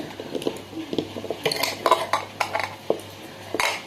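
A spoon mashes soft food in a bowl, giving close, irregular clinks and scrapes of metal against the dish with no voices.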